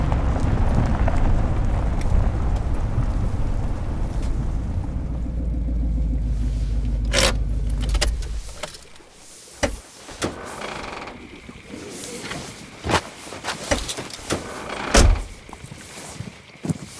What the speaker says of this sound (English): You can pull your truck up here.